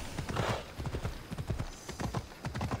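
Rapid rhythmic hoofbeats clatter steadily, a horse galloping close by in Assassin's Creed Odyssey, with a brief snort near the start.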